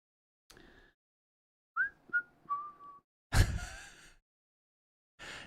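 A person whistles a few short, wavering notes in bursts, separated by silence, with breathy sighs and a sharp intake of air between.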